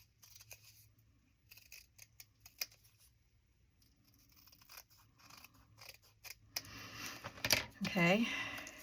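Scissors snipping through a paper cutout of a pack of gum for altered paper clips, faint scattered clicks and cuts growing louder and busier near the end.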